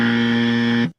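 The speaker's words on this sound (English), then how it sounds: "is a buzzer" A game show buzzer in a geography quiz round sounds one loud, harsh, steady buzz that cuts off abruptly after about a second.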